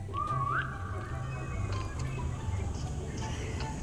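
A single short whistled note rises upward once over a steady low hum of background noise, in the Roblox game 3008.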